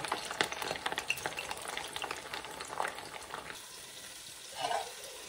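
Pitha fries in hot oil for an iftar spread, giving a faint, steady sizzle with occasional stirring and bubbling, and a brief louder burst of frying near the end.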